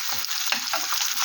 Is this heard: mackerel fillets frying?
yes